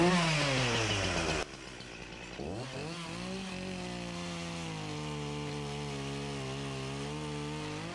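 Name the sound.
Echo 501P chainsaw with 14-inch dime tip bar carving wood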